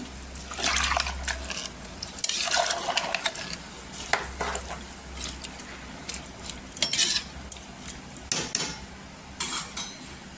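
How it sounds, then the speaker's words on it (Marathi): A spoon stirs a spiced sprouted moth bean and rice mixture with water in a pressure cooker pot, giving a steady run of scraping, wet swishes and metallic clinks at close range, with no voices. "आता पूर्णपणे इथे मिक्स करायचं."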